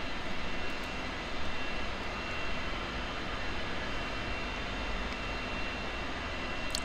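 An Aero L-39C Albatros jet engine spooling up during start-up in DCS World, a steady broadband whine and roar held at a constant level throughout, heard from the cockpit with no talking.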